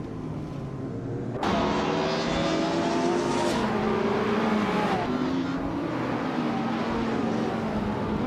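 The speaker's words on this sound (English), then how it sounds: "Hope you're ready for some exciting car races today." Several engines whine and roar through a video game car race, steady and loud from start to finish, with pitch sweeps as the cars shift and pass one another.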